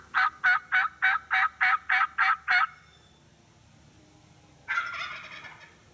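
A wild turkey gobbler in a Pennsylvania spring season gives nine rapid, evenly spaced gobbles, loud and close, then a brief pause before one more rougher gobble near the end.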